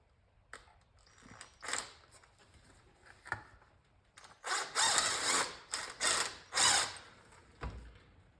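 A power drill, hand-held, runs in short bursts on a cross-threaded nut during a Pac-Man build, whirring and ratcheting in several loud spurts with a few quieter taps and handling clicks between them.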